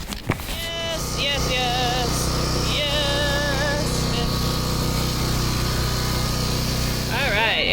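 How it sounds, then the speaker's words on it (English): An air conditioner starts up inside a converted school bus tiny home and settles into a steady mechanical hum and drone, with voices and whistly sounds over it. "air conditioner just started up"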